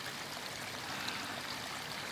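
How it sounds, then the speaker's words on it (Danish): Steady babbling of shallow water at the source of the Gudenå river, a continuous gentle trickle with no other sounds and no voices. "Nyd stilheden og det pludrende vand der."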